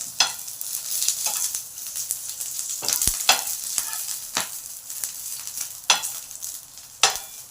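Chutney ingredients frying in about half a spoon of oil in a pan, a steady close sizzle broken by sharp scrapes and clicks from stirring, with no talk.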